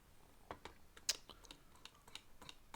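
A few light, sharp computer clicks tick out faintly and sparsely in a quiet room as a giveaway winner is picked, with no talking.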